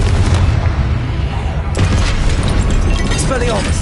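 Confringo explosion spells cast in Hogwarts Legacy, with loud, dense booming blasts and crackling battle noise running throughout, voices heard over the din.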